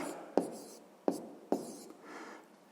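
Pen strokes scratch on paper as an answer to a sixth-grade math percentage problem is written by hand, three sharp taps followed by soft scribbling, quiet and close.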